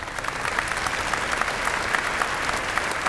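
Convocation audience at a university graduation ceremony gives a warm round of applause for the provost, a dense, steady patter of many hands clapping at an even level for the whole span.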